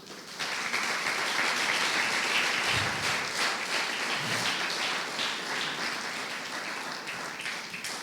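A church congregation claps in a broad, even wash of applause that holds steady for roughly eight seconds at moderate volume, with a couple of low thumps partway through.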